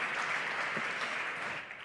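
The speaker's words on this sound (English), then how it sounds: "Big applause for Anne, please." Audience applause, an even, moderately distant wash of many hands clapping steadily without breaks.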